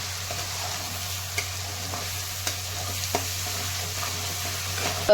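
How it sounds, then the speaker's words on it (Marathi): Finely chopped tomatoes sautéing in a pan for baingan bharta, giving a steady low sizzle with a few soft stirring taps, close and continuous with no talking. "टॉमॅटो छान असं पर परतून घेते"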